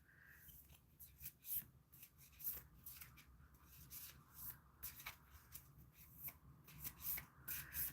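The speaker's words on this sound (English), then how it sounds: "Let me know when you want me to stop shuffling" Tarot cards are shuffled by hand in short, soft riffling and rubbing bursts that repeat irregularly, close but very quiet, with no speech.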